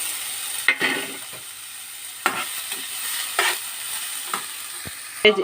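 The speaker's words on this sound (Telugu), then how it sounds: "ఉడకబెట్టుకున్న క్యాబేజీని గట్టిగా పిండి తాలింపులో వేసుకోవాలి" Boiled, squeezed cabbage sizzles in hot oil tempering with sharp clatters and scrapes of a spoon stirring the pan, intermittent bursts over a quiet frying hiss.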